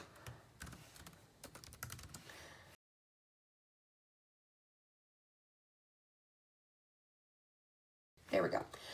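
Computer keyboard typing for about three seconds of quick, irregular key clicks at close range, then a long silence before a brief louder burst of sound returns at the end.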